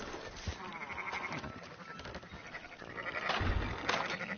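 Sheep bleat in a PS4 video game, several wavering calls rising over a busy background of game sound, moderately loud with a stronger bleat near the end.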